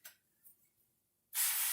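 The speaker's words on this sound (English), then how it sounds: "we're gonna spray that with some cooking spray" Cooking spray hisses into a frying pan in one steady, loud burst toward the end, after a near-silent stretch with faint kitchen sounds.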